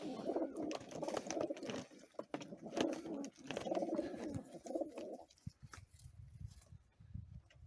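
Pigeons coo repeatedly in soft, throaty, rolling phrases, close by, then fall quieter, leaving scattered rustles and light knocks.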